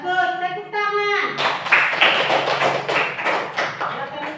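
A classroom of students claps together in a burst of scattered hand claps lasting a few seconds, just after a short spoken phrase from the teacher.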